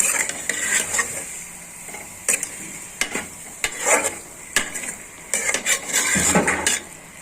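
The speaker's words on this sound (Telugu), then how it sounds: "తొందరగా కలిపేయాలండి గరిటెతో మొత్తం అన్నీ కలిసేలాగా" A metal ladle stirs koyyinga fish curry in a pot, making sharp repeated clanks and scrapes in uneven bursts over a faint simmering hiss.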